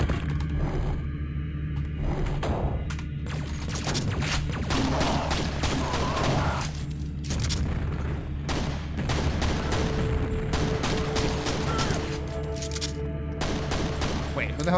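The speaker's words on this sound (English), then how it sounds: "Who the hell's shooting at me?" Rapid bursts of gunfire in a Quake map, sharp repeated shots in irregular volleys close by, layered over game music and effects.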